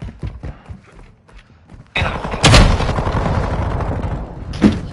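Rapid automatic gunfire in Call of Duty: Modern Warfare 2, loud close bursts of shots with heavy thuds, starting abruptly after quieter game sounds and carrying on steadily with a final sharp blast.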